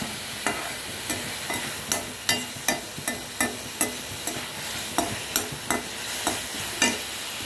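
Thuthuvalai leaves being sautéed in a pan for chutney, a steady sizzle under a regular rhythm of spoon scrapes and stirs, loud and close with no talk.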